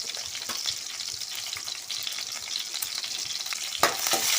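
Continuous close-up sizzling of spices frying in hot oil for chicken gravy, with scraping and stirring sounds from a utensil in the pan.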